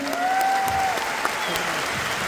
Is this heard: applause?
yes